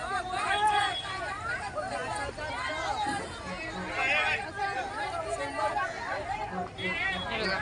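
A steady hubbub of overlapping voices at Mumbai's crowded Bhaucha Dhakka wholesale fish market, loud and near, with individual shouts rising briefly out of the continuous babble.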